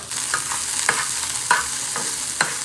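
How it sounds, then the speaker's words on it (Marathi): Food frying in butter with spices, a steady broadband sizzle with several sharp stirring scrapes and taps spaced through the short stretch, close and alone with no voices. "हे ना असं मस्त फ्राय करायचं बटरमध्ये आणि त्याच्यामध्ये थोडे स्पायसेस टाकायचे जे तुम्हाला पाहिजे"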